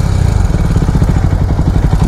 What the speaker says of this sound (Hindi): चैन वैन से भी कहीं से आवाज आ रही है यार